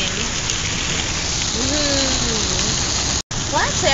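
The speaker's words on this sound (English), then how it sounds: "I am stuck in the pouring rain." Steady pouring rain hisses loudly and evenly throughout, a dense close wash with a few faint tonal chirps running over it and one brief dropout near the end.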